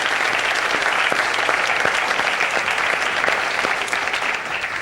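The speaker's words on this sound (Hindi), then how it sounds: "आप सबकी दीजिए तालियों में।" A studio audience on a morning TV show bursts into loud, sustained applause, a dense steady wash of clapping close up that fades slightly at the end.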